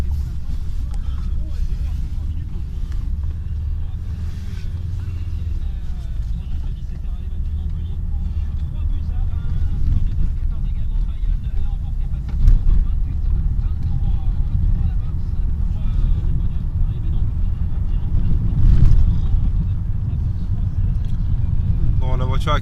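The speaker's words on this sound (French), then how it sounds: "Bon, la voiture accélère bien." A Lancia Thesis car accelerating, its engine a steady low rumble that swells slightly toward the end, with interior road noise and a voice speaking over it.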